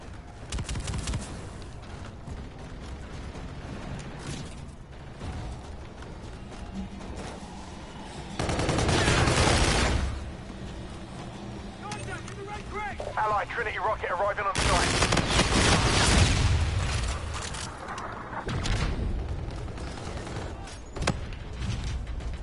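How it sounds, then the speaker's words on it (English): Shotgun blasts and other gunfire in a first-person shooter video game, loud bursts rising out of a busy, noisy firefight backdrop, with chatter and other game sounds in between. "Shotgun."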